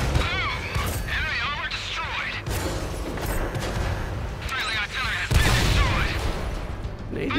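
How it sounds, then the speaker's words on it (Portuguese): Gunfire striking an American T29 tank from behind in World of Tanks on the Cold War map: repeated heavy booms and metallic impacts over a rumbling engine, dense and loud throughout. "Tô levando tiro aqui de traseira"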